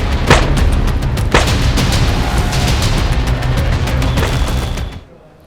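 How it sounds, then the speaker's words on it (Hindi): Several gunshots fired in a crowded street, loud and harsh over dense crowd noise and street clamor, a few sharp cracks standing out before the sound cuts off near the end. "पुलिस की परवाह किए बगैर बदमाश ने कई राउंड फायरिंग की"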